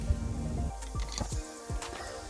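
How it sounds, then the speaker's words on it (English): Pancake batter poured into a hot cast iron pan at a forest campsite, a soft wet splat followed by a few light sizzling squishes, close and fairly quiet, with no talking. "Now we're gonna pour in our pancake batter."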